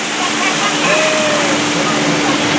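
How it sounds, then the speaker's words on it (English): A waterfall beside the Jungle Cruise boat ride at Magic Kingdom, Walt Disney World, gives a steady, loud rush of falling water that fills the whole stretch with constant broadband noise. "Now behind me here is Schweitzer Falls, named after the famous explorer, Dr. Albert Falls."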